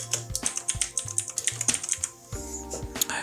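Keys clatter on a computer keyboard in quick, uneven bursts of close, crisp clicks, with one brief pause midway and no talking.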